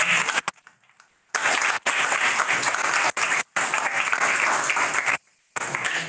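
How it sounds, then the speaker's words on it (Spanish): Audience applause at a book presentation for "La hermandad de los astronautas" breaks out in several loud bursts of dense clapping, cut by brief silent gaps, with a short quiet lull near the start. "Primero aplaudimos"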